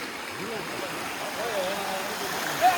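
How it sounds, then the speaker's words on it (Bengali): A waterfall stream flows steadily nearby in a hilly forest spot, giving a continuous soft rushing wash, with a faint voice briefly audible over it. "এই দেখেন ঝর্ণার পানি এদিকে যাচ্ছে।"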